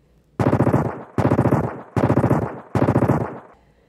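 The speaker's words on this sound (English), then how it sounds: "the sound of gunfire unleashed itself above" Four rapid bursts of automatic gunfire, each a tight rattle of shots, evenly spaced and loud at close range.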